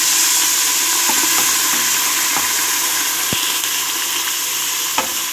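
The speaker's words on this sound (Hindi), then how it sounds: "अब मैं इसमें डालूँगी चिकन और इसको अच्छे से फ्राई करूँगी।" Chicken fries in a pan with browned garlic and ginger, a steady loud sizzle throughout with a few sharp clicks of a utensil against the pan.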